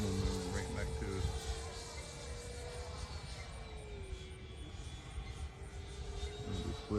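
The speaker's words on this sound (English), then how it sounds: "I'm not even going full throttle to climb it up." A radio-controlled sport jet climbs vertically at less than full throttle, its steady whining engine drone shifting slightly in pitch as it flies, with a person talking over it.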